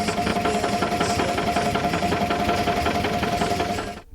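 A 1957 German Güldner tractor engine runs close by with a steady, rapid knocking chug at a constant pace, then cuts off abruptly at the end.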